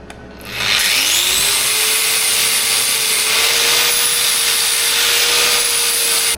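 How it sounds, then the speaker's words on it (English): Steady power-tool grinding on a steel bonnet of an International B414 tractor, smoothing down weld pinholes; a continuous loud whine rises in pitch as the tool spins up, then holds level for several seconds. "Weld pinholes. Grind down again."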